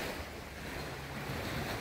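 Sea surf rolls steadily onto a white sand beach resort in Unisan, Quezon, on a calm morning, a continuous wash of breaking waves mixed with some wind buffeting the microphone, with no talking.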